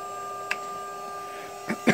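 A CNC machine spindle running while trimming carbon fiber: a steady high electrical whine with several stacked tones, broken by a few brief clicks and taps near the end.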